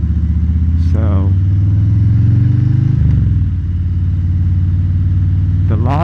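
A 2020 Harley-Davidson Low Rider S motorcycle rumbles loudly and steadily at night, its engine note shifting as it is ridden, with a rider talking over the constant engine drone.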